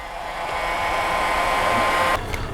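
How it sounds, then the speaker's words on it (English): Blow dryer or heat gun heating the back of an iPhone 7 during a battery repair, a steady broadband airflow roar that holds constant and cuts off near the end. "you can use your blow dryer or a heat gun"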